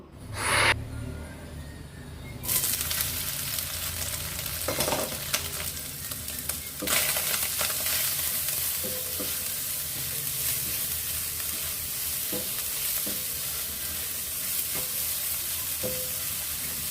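Boiled soybean chunks and potatoes fry in hot oil in a wok, giving a loud, steady sizzle with sharp bursts as pieces hit the oil and occasional scraping stirs, and no voices.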